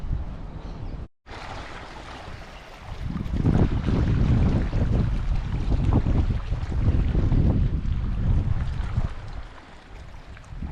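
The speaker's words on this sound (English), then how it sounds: "It's still bloody windy." Strong wind at Weipa roars and buffets a microphone in a continuous low rumble, briefly cutting out near the start, then blowing steadily on without letup.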